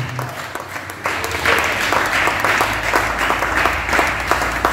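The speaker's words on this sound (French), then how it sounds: "Il s'amène et on applaudit." An audience at a debate in Limbé, northern Haiti, claps in a steady round of applause that swells after the first second and holds, moderately close, with a faint voice at the very start.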